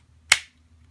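A Taran Tactical extended magazine base pad on a Glock G17 seats into the pistol with one sharp, close click that fades quickly against a quiet background.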